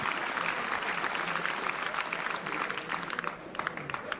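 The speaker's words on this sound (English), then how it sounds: "A round of applause for Carmen Lyons and Pat Efferin" Sustained applause from an audience greeting Carmen Lyons and Pat Efferin at a parish gathering, steady dense clapping throughout with a faint murmur of voices underneath.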